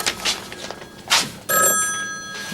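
A telephone rings indoors with a bright electronic bell burst, heard over faint room noise and a few soft footsteps.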